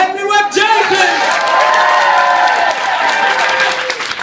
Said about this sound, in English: can we have a round of applause for Henry Webb Jenkins?